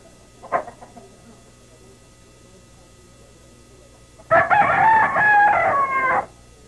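Fighting rooster at a cockfight crows once, loud and close, a long harmonic call of nearly two seconds, following a short faint burst of noise a few seconds earlier.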